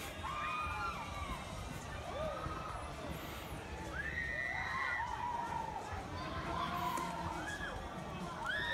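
Roller coaster riders in Australia scream over a steady crowd roar, with several rising and falling high-pitched shrieks overlapping throughout at moderate distance.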